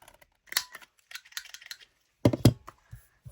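Scissors snip through paper specimen negatives in a few close, crisp bursts of cutting and rustling, with short quiet gaps between them and no talking.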